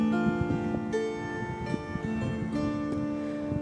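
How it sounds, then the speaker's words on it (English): A Luna Celtic-style harp with bronze strings, plucked notes ringing bright and metallic, overlapping in a gentle, flowing pattern, close and fairly soft. "I'm here with my ancient Celtic-style harp"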